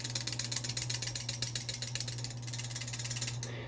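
A Benchmade 42 clone balisong knife with channel-construction handles and plain washers instead of bushings rattles loosely as it is flipped, giving a steady, rapid stream of close metallic clicks and clatter with no talking.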